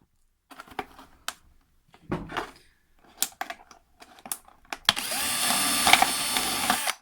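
A drill bores three holes through three layers of material for an Asian hornet trap, with scattered clicks and short handling taps first, then a sustained drilling whir in the final two seconds.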